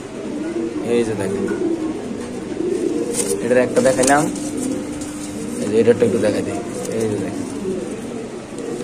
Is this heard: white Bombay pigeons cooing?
yes